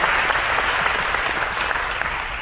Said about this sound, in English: Let's give Rylan another round of applause.